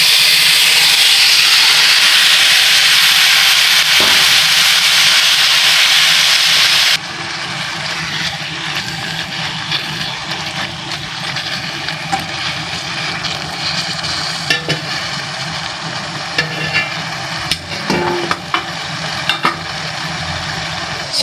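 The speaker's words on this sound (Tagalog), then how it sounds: "isi-sear na natin yun na" Pork sizzles loudly as it sears in a frying pan for pork igado, a dense steady hiss for about seven seconds that then settles into quieter sizzling with a few light clinks.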